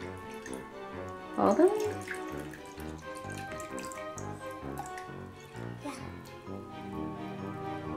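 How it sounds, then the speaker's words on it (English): Vinegar is scooped and poured for a Halloween baking soda experiment, giving soft trickling, splashing liquid sounds under children's and adults' chatter, with one brief louder splash near the start. "so scoop up some vinegar"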